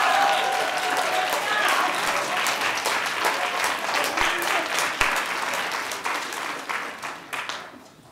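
An audience at a board of education meeting applauds steadily, a dense wash of many hands clapping for several seconds before tapering off, with voices mixed into the crowd.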